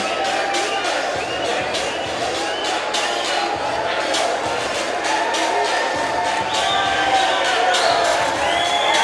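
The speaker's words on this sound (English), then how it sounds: "He's getting applauses as both fighters embrace right there." A boxing arena crowd cheers and applauds as the two fighters embrace after the bout, a broad, loud roar of clapping and voices filling the hall, with a commentator talking over it throughout.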